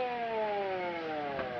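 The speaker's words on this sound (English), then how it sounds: "There's an ambulance coming" An ambulance siren from a 1944 film sounds a steady, slowly falling wail with layered tones, loud and continuous with no voices over it.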